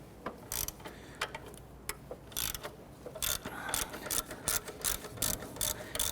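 A ratchet loosening a 12mm bolt on the engine of a 1992–1996 Toyota Camry 2.2L four-cylinder, quick repeated clicking strokes in irregular bursts, close and fairly quiet.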